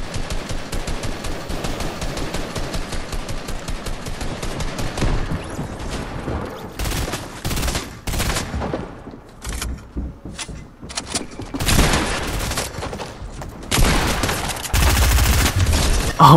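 Shotgun fire in Fortnite Chapter 2 Season 1: a long run of loud, sharp gun blasts, some in quick clusters and others spaced apart, with short lulls in between, close and with no talking.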